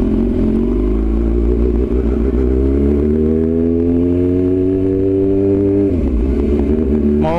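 A 2024 Kawasaki ZX6R sport motorcycle accelerates up close with a loud, rising engine whine through one gear, then a brief dip as it shifts up and starts climbing again.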